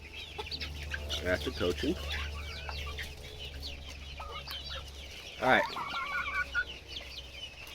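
Rhode Island Red bantam hens cluck in repeated bursts, with one louder squawk midway, over a steady low hum; a person speaks briefly among the birds.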